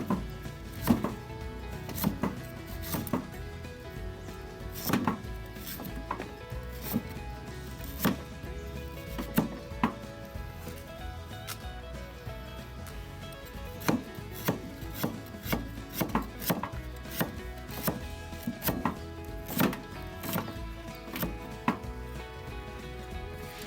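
Rapid, steady knife chopping of garlic on a cutting board, sharp close thuds repeating throughout over faint background sizzling.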